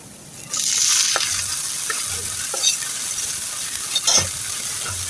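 Chopped onion and garlic sizzle steadily in hot oil while being fried until brown, a continuous close hiss with occasional spoon scrapes and stirring knocks, no talking.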